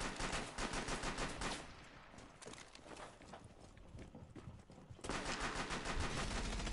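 Rapid gunfire in the tactical shooter Rainbow Six, loud bursts of shots crackling close by in quick succession, dipping briefly midway before resuming heavily, with no talking over it.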